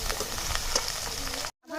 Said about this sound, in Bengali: শুকনো মশলাটা দিয়ে ভালো করে নেড়ে চেড়ে নেব।